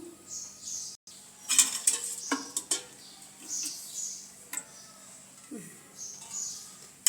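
A metal kadai is set down on a gas stove in a home kitchen, giving a few sparse, quiet metallic clanks and clinks with soft handling noises between them.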